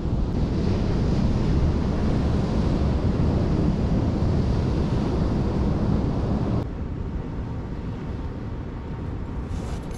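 Ocean surf on the Great Ocean Road near Apollo Bay, a loud, continuous roar of breaking waves with heavy wind buffeting the microphone, the rush easing slightly partway through.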